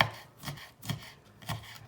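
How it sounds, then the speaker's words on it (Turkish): A knife chops peppers into small pieces on a cutting board for a home-cooked bean dish, giving three distinct, evenly spaced chops that are close and crisp, with no talking. "Soğanlarımı doğradıktan sonra şimdi biberlerimi de doğruyorum."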